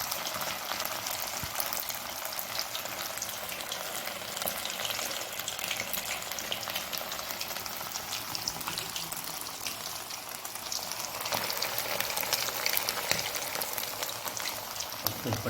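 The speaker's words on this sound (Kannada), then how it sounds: "ಈಗ ಬರಬೇಕು ಸೌಂಡು, ಬುಳ ಬುಳ ಬುಳ ಬುಳ ಬುಳ ಪಟ ಪಟ ಪಟ ಅಂತ." Curry leaves and crushed garlic crackle and sizzle in hot oil, a steady dense frying hiss with quick popping bursts that runs continuously and swells louder near the end, no talk over it.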